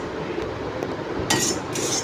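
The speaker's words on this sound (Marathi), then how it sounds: "आता मी किसून घेतलेलं सुकं खोबरं आहे ते खरपूस भाजून घेणार आहे" Grated dry coconut stirred while roasting in a pan over very low heat, a dry scraping and rustling with a couple of brighter metallic clinks from the utensil against the pan, close, no voices.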